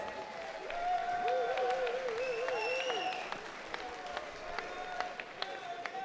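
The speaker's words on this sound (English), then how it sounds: "Please put your hands together and give the Managing Director of Admiral Taverns, Ian Ronayne, a round of applause." Audience applause fills the room at an evening pub awards ceremony, a steady crowd clapping that swells after the first second, with background music tones running beneath it and a few louder claps near the end.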